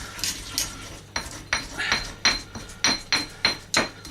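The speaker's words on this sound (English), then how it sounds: "One way you can use is to scrape it off the sides" A spoon scraping the sides of a pan while cooking chicken fajitas in olive oil, sounding as a series of sharp metallic scrapes and taps at a steady, regular rhythm, close up and without talk.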